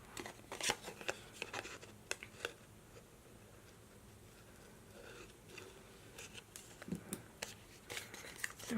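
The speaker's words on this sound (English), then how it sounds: "I'm gonna take my scissors and just trim that down." Scissors trim paper for a handmade magnetic bookmark at close range, with scattered sharp snips and crinkly paper handling in a quiet room, no talking.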